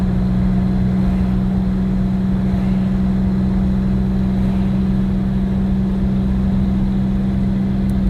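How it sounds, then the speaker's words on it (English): A turbocharged New Edge Ford Mustang with its turbos and exhaust routed out through the hood idles with a steady, low droning hum that stays constant and fairly loud throughout, with no talking. "don't mind this, the turbos and the exhaust coming out the hood."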